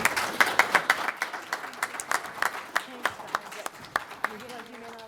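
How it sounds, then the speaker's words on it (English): Applause at a panel session of a Vietnam Moratorium Committee event: a modest group claps with sharp distinct strikes, fairly sparse and uneven, while voices talk over it near the end. "Round of applause for the panel"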